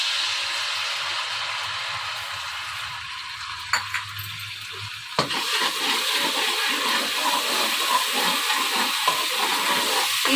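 Garlic and ginger paste frying in oil with beef keema in a pan, a steady soft sizzling hiss that grows busier after a clatter midway, with no voice heard.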